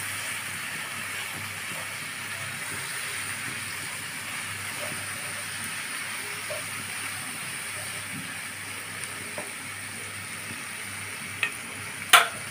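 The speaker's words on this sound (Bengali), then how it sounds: "দিয়ে সব কিছু সহকারে মশলাটা আমি একটু ভালোভাবে কষিয়ে নেব।" Achari chicken masala with turmeric and red chili powder being sautéed in a pan, a steady low sizzle and stirring throughout, with a couple of sharp utensil knocks near the end.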